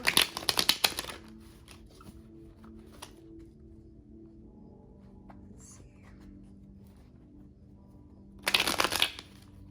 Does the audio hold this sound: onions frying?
no